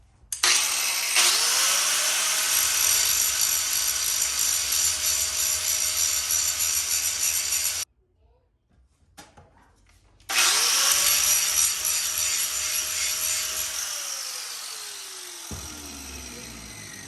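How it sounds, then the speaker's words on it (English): An angle grinder whines steadily as it grinds paint off the frame of a 1974 Ironhead motorcycle, a loud close drone in two long passes separated by a brief pause, the second trailing off as the motor spins down. "All right, so I got all the outside kind of grinded off here."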